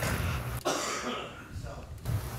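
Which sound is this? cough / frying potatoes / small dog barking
cough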